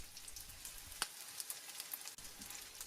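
Quiet, steady sizzling of cheese, egg and kimchi fried-rice kimbap frying in hot oil in a tilted pan, with a faint crackle and a light clink partway through.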